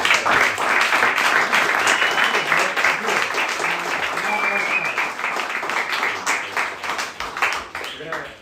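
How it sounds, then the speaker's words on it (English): An audience at an ETH San Diego fireside panel on Bitcoin gives the panelists a sustained round of applause, dense clapping that holds steady before thinning out toward the end, with some voices mixed in. "let's give a big round of applause to our panelists"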